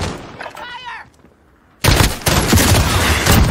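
Gunfire from a semi-automatic weapon in Call of Duty Modern Warfare, loud and close, bursts in after a near-silent gap and continues as a dense run of shots, with brief in-game voice just before.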